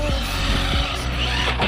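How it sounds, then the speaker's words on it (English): A JJRC SCT RC short-course truck on drift wheels skids and slides with its stock system, a steady whining motor buzz with brief tire scrubbing bursts, close and continuous. "see if it could actually drift straight out of the box with the stock system"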